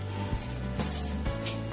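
Bengali egg chops frying in hot oil, spitting because a little water clung to the spoon. A steady close sizzle runs throughout with a few sharp crackling pops, and no one talks.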